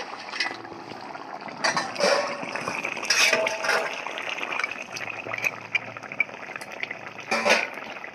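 Pre-fried lentil dumplings (bori) sizzle in hot oil in a pan for a Bangladeshi tangra fish curry, with a steady soft crackle and a few brief stirring scrapes and clinks.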